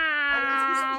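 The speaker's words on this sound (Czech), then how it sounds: "To je takzvaný souboj koček." A single cat yowls in a sustained, harmonic caterwaul during play-fighting at home, close and loud for about a second with no talking.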